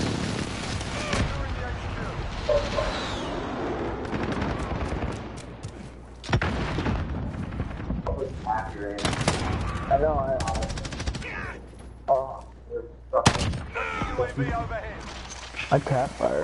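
Rapid bursts of gunfire from a hardcore-mode military shooter game, loud and near, broken by brief pauses and mixed with talk and game radio chatter throughout.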